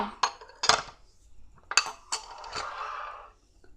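A metal spoon clinks against two bowls set out for making homemade Nerunerune candy from yogurt: several sharp, close clinks and knocks in irregular bursts, with no talking.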